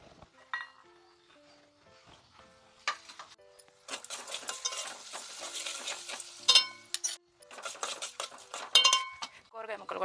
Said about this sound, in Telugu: కూరగాయ ముక్కలు కూడా వేసేస్తున్నాం. కూరగాయ మగ్గనిద్దాం పచ్చివాసన పోయేలాగా.